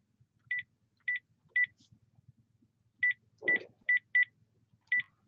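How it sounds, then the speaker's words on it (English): A series of short electronic keypad tones, in pairs and singles with pauses between, over faint low background rumble and a brief noisy thump midway. "I can dial it if you have me the phone"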